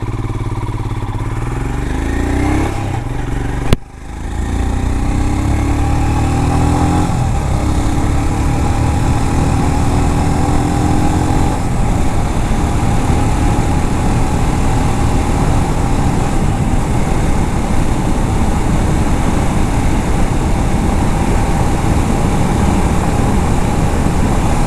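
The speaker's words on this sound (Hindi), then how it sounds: "आप बस कल इसका इंजन का साउंड सुनो" A Royal Enfield Scram 411 motorcycle engine runs through a long, steady, droning note on a wet road. A short jolt early on, where the sound briefly dips, is followed by a continuous, fairly loud rumble with no voices.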